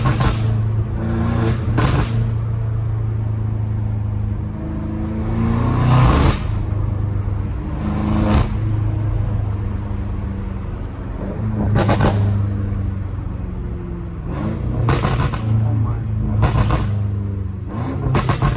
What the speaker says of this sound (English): Those turbos sound crazy.